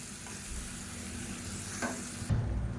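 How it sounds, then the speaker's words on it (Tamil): Cooked, mashed toor dal is stirred into okra frying in a pan for vendakkai pachadi. A steady close sizzle runs throughout, with soft stirring scrapes and a louder clatter near the end. "துவரம்பருப்பு இதை சேர்த்துக்கலாம். சேர்த்துட்டு கலந்து விட்டுலாம்."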